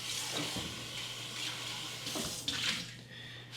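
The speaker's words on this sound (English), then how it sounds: "It's just distilled water, but we'll give it a quick rinse." Distilled water splashes and runs as a Keurig K-Supreme carafe is rinsed, a steady broadband rush of water lasting a few seconds with small surges and splashes near the end.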